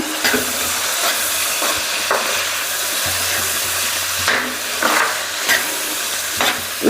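Chili powder, coriander powder and turmeric fry in hot oil with a steady close sizzle, broken by stirring scrapes and brief louder bursts throughout.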